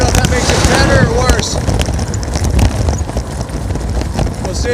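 Strong gusting wind on a dusty red-flag day in New Mexico roars loudly and steadily across the microphone, a dense, continuous rumble throughout with brief tonal murmurs early on.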